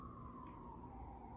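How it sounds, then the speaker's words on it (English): An emergency vehicle siren in New York City wails as a single faint, steady tone drifting slowly downward in pitch, heard alone at a distance with no voices present. "There's really not a time you don't hear a siren here in New York City"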